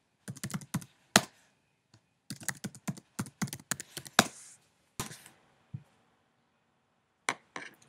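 Fingers tap out a password and Apple ID on a computer keyboard in irregular bursts of crisp, close keystrokes, with short pauses between runs and no voices.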